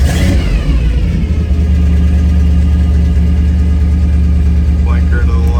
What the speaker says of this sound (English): We'll start up our 57 F100.